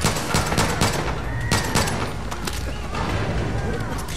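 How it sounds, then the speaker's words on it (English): Gunfire and explosion-like bursts in the Far Cry 5 video game, including a grenade blast, with dense crackling shots and booms sustained throughout at a loud level, mixed with voices talking over the action. "that's a grenade"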